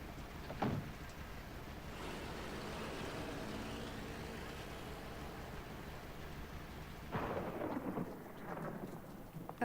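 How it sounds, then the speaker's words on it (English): Thunderstorm ambience in the Nancy Drew game Legend of the Crystal Skull, with steady heavy rain and two sharp thunder cracks, one near the start and a rumbling one late, with no talking. "And of course it has to be raining."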